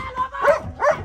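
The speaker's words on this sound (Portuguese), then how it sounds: "O cachorro vai me morder!" Dog barking in two loud, close bursts, set against shouting people near a car on a rural farm property.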